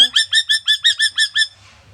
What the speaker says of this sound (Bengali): ওর মাকে ডাকতেছে, মা মা সৈকত